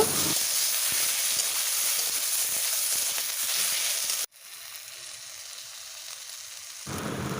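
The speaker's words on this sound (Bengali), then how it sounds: "কষিয়েই দিয়ে দিলাম টমেটো টমেটো দিয়েও ভালোভাবে কষিয়ে নেব" Tomatoes sauté in oil for a fish curry, giving a loud, steady sizzle that drops sharply partway through to a quieter hiss before rising again near the end.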